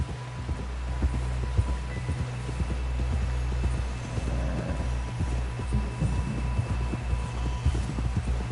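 Horse hooves clip-clop steadily in Red Dead Redemption 2, a galloping rhythm of close, regular thuds over a continuous low rumble of in-game background noise, with no talk heard.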